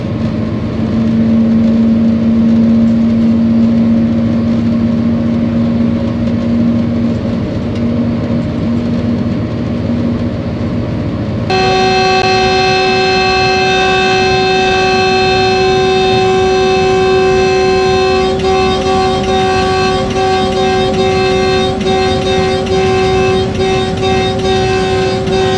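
A Pakistan Railways locomotive runs with a loud, constant engine roar and droning tonal hum. Partway through, the tone shifts to a brighter, fuller whine that carries on steadily.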